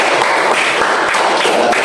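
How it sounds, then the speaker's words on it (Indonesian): A classroom of students gives Riza a brisk round of applause, many hands clapping close and fairly loud in a continuous, slightly uneven patter that lasts the whole moment. "Iya, boleh tepuk tangan untuk Riza."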